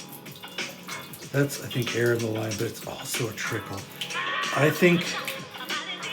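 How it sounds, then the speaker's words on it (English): A faucet with air in the line, its cold and hot taps giving only a weak trickle, splutters and runs with uneven hissing flow under a man's speech. "There's cold, it's a trickle, and here's hot."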